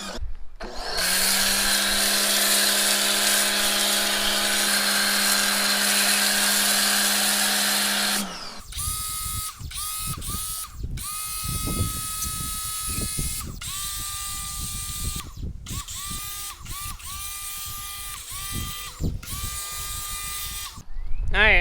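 Pressure washer with a foam cannon spraying purple degreaser over a car engine bay: a loud, steady motor whine for about eight seconds, then repeated bursts of spraying that start and stop.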